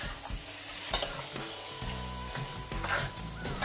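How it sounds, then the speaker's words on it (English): Curry goat cooked country style in a Dutch pot is stirred, with a spoon scraping and knocking against the pot over a continuous sizzle and no talking. "So we are going to stir it up, people."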